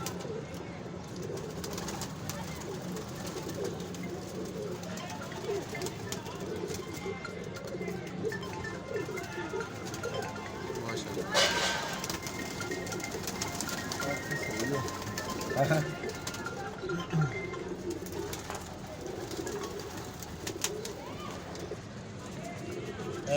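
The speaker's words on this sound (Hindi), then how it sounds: "देखिए दोस्तों ये उस्ताद मानुल्लाह साहब के कबूतर हैं" Teddy pigeons coo softly in the background in Lahore while people talk over them throughout.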